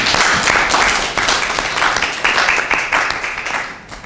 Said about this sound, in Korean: 이지연 외부사무관님께 다시 한번 큰 박수 부탁드리겠습니다